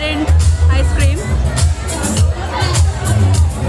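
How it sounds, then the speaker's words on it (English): Dense crowd hubbub at a busy restaurant festival in Hyderabad, with constant overlapping chatter, occasional clatter and bangs, loud and close throughout. "There's so much crowd."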